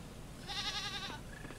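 A goat bleats once in the farming video game Coral Island, a short, wavering, nasal call that stands out clearly over a quiet background, followed by a fainter second tone.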